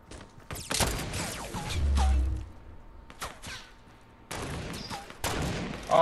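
Gunfire aimed at a tree in a video game comes in sharp bursts of shots separated by short gaps, loud and fairly close.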